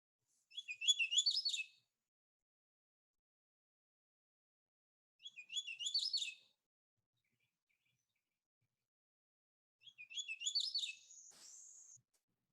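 A bird sings three short, bright phrases of rapid chirping notes separated by long silences, clear and isolated against a quiet background.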